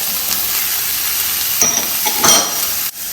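Chopped onions and pepper fry in hot oil in a pan, a steady loud sizzle with a few faint clinks and stirring sounds and no talk.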